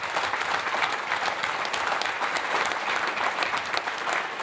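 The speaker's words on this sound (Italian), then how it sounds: "il comitato elettorale che merita un fragoroso applauso" A crowd at an Italian town political gathering gives thunderous applause for an electoral committee, dense continuous clapping from many hands filling the room, steady and loud with no pauses.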